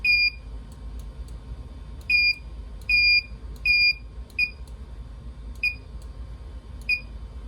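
A Sun Ultra 5 workstation under Solaris sounds its system beep again and again, crisp tonal bleeps of slightly varying length spaced irregularly over about seven seconds, close and clear above a steady low hum.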